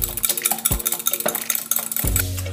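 Crema for fish tacos being mixed in a bowl, a spoon or whisk clinking and scraping against the sides in quick uneven strokes, close and clear, with a few heavier knocks along the way.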